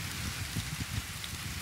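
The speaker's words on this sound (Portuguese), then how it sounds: "a chuva não fica concentrada em um canto só, porque como o vento está muito forte" Steady rain falls in strong wind, a dense, even wash of drops with faint low gusty rumbles, continuous and moderately close throughout.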